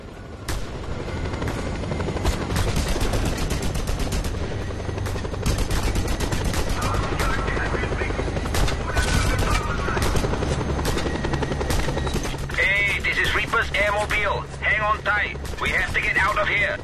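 A helicopter in the Just Cause 2 video game thrums steadily and loudly throughout, mixed with bursts of gunfire and a voice speaking over the rotor noise.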